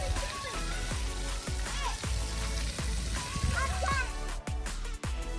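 Water splashing and spraying at a free pirate-themed splash pad beside a playground, a steady wash of droplets and spray with children's voices and talk layered on top throughout.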